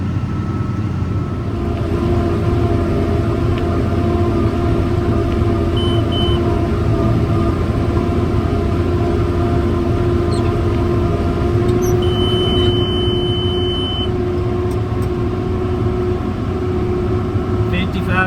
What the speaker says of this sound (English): watch us drive this tractor